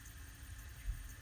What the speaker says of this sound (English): That sound you're hearing is coming from this little spinner here.